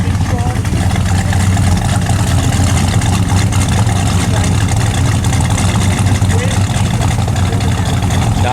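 A 1967 Pontiac GTO V8 with a broken choke idles steadily as it warms up, a continuous low rumble heard up close, with voices talking over it.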